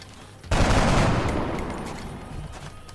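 A weapon fires at a sectoid in XCOM Long War, one loud blast followed by a long rumbling tail that slowly fades over a few seconds, with no talking over it.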